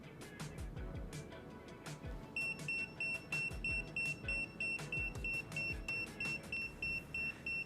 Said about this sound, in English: When the transmitter's AA batteries are getting low, the blue light in the center will flash and it will emit an audible tone.